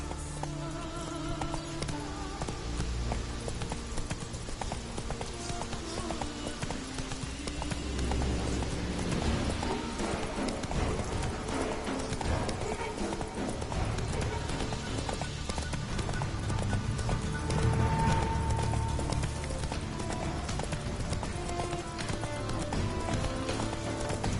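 Roach the horse gallops in The Witcher 3, a steady dense patter of hooves running continuously under a broad wash of ambient game sound and music, moderately loud throughout.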